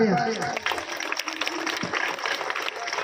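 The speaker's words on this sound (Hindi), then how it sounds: "जोरदार तालियां" Dense, steady applause from the audience at a school Independence Day drama performance, filling the whole stretch as a loud, continuous wash of claps.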